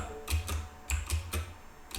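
A few computer keys are pressed to enter Windows keyboard shortcuts, giving a short burst of soft, close clicks at uneven intervals over steady room hiss.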